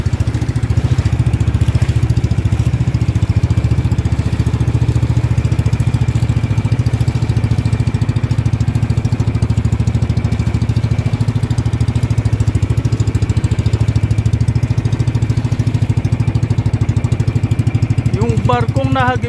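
A boat engine runs steadily at sea on a fishing trip, a loud continuous low drone with a constant hum that holds throughout, with a faint higher whine near the end.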